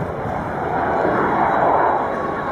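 A propeller airplane roars past at steady close range during an airshow at Florennes, Belgium, a continuous broad engine drone that swells slightly midway as it passes at about 168 km/h.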